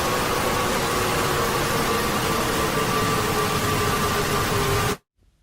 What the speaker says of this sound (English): Here's what Ambush's static sounds like.